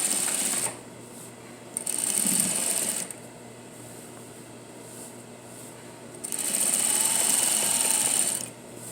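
A sewing machine edge-stitches down a jeans seam in two loud, steady bursts of rapid stitching, separated by quiet pauses.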